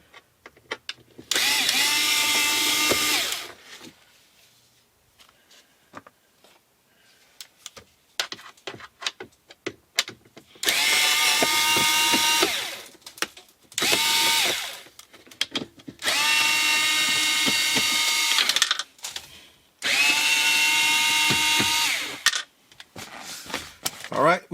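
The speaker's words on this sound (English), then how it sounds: "Alright, so there are 4 screws I need to remove." Cordless power drill driving out Phillips #2 screws from the dash of a 1999 Acura RL, four loud whirring bursts of several seconds each separated by quieter gaps with small clicks and handling noises, close up.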